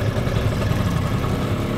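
A Bajaj auto rickshaw engine in Jakarta chugs along steadily, a rough, bouncy low putter running loud and close for the whole moment, with no voices.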